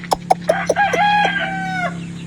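Chickens in a backyard coop, a few sharp clucks followed by a rooster's long crow, loud and close, with no talking over it.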